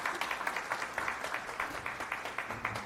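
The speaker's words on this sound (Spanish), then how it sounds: "Un fuerte aplauso, por favor." An audience applauds a speaker at an academic talk on scientific journals, steady clapping from many hands at a moderate distance, fairly quiet and continuous for the whole stretch with no voices over it.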